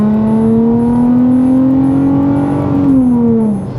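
An Infiniti G35 accelerates hard on a freeway, its engine note climbing steadily as it pulls through a gear, then the pitch drops briefly near the end. The engine is close, loud and continuous, with no talking over it.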